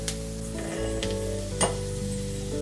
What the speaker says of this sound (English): That's the reason I'm frying it separately and we're gonna mix it later.